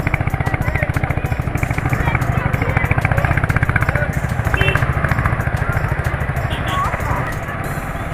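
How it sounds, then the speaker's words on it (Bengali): A motorcycle is ridden with a close, steady, rapidly pulsing engine thrum that holds an even rhythm throughout, with road and wind rumble underneath. "এইভাবে বাইক রাইড করে যাচ্ছি"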